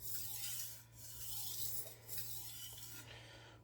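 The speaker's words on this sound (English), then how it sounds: "using light pressure you can finish on a somewhat coarse stone" A knife blade strokes back and forth on a coarse sharpening stone under light pressure, giving faint, rhythmic rasping scrapes of a few strokes.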